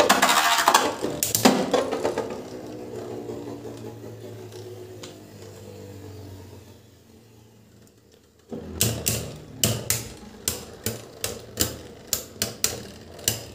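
Beyblade Burst spinning tops Mirage Fafnir and Ultimate Valtryek battle: a clattering burst of clicks opens, then a steady whirring hum from the spinning tops, then a series of sharp, evenly spaced clicks up close.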